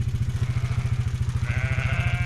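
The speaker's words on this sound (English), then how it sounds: "I can hear a quad bike and some bleating going on" Sheep bleat in a grassy field while a quad bike's engine chugs steadily close by, its low, rapid pulsing running throughout under a higher, wavering bleat that grows toward the end.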